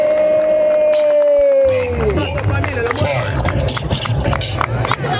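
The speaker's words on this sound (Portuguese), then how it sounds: "Palmas e palmas e palmas, Zona Leste" A crowd at a Red Bull qualifier rap battle in São Paulo's Zona Leste bursts into loud clapping and cheering. The noise swells after a sustained vocal note from one voice, then keeps going as a dense, close roar.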